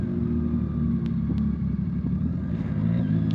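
A large group of motorcycles riding along a highway, a loud continuous engine rumble and drone with faint passing whines, heard close up from among the riders.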